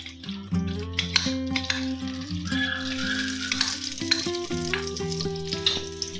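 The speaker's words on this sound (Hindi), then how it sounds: "अच्छी तरह से मिक्स कर लेंगे।" Cream being stirred into melted khoya in a pan for gajar halwa, giving a steady sizzle and bubbling with scraping stir sounds over a sustained tonal hum, close and continuous, no speech.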